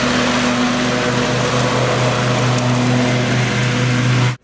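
A riding lawn mower runs outside at full speed, its steady droning engine hum close and loud, holding an even pitch before cutting off abruptly at the end.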